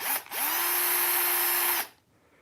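A handheld power drill whirs steadily for about a second and a half as it spins over the nitro engine of a vintage XTM X-Terminator RC buggy, starting with a brief stutter and then cutting off.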